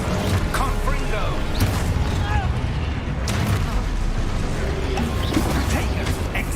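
Blasting Confringo spell exploding in the game Hogwarts Legacy, a loud continuous boom and rumble with crashing debris, dense game effects filling the whole stretch.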